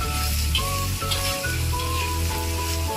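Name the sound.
chili omelette frying in a pan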